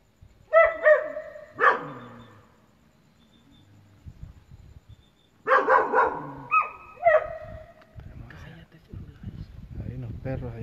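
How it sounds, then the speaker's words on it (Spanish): Dogs bark outside a Pentecostal church at night, several sharp barks in two clusters separated by quiet, fairly distant and moderately loud, with faint rustling and low murmuring afterward. "Ahí los perros, allá donde están esos perros malditos. Están ladrando."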